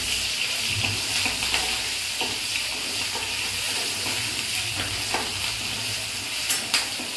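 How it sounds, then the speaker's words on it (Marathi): Ginger-garlic paste and green chillies sautéing in a pan for a chicken curry, a steady close sizzle with occasional stirring scrapes and clicks, no talking. "नंतर अद्रक लसूणचा पेस्ट टाकायचा, हिरवी मिरची टाकायची, त्याला परतून घ्यायचं।"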